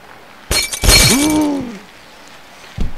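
Glass shatters loudly inside an elevator in the physics game Happy Wheels, a sharp crash followed by ringing, falling shards that fade over about a second, with another brief impact near the end.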